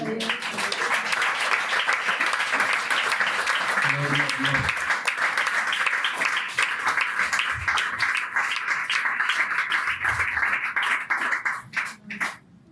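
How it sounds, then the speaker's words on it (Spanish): A church congregation applauds steadily in a dense, sustained clapping wash that fills most of the span, then thins and stops near the end. "Bríndele un fuerte aplauso al Señor."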